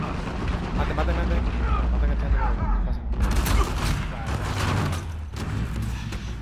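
Gunfire in the video game Uncharted 4, heard during an online team deathmatch, comes as a cluster of sharp shot bursts in the middle of a steady game din. A voice talks over it throughout.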